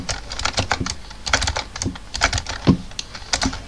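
A computer keyboard clatters with rapid, uneven keystrokes during Fortnite play, sharp close clicks in quick bursts with brief pauses, heard alone without speech.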